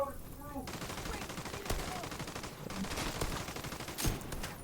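Rapid bursts of automatic gunfire in The Division 2 video game during a fight with a Black Tusk Heavy, continuous crackling shots with a louder blast near the end, steady and mid-distance.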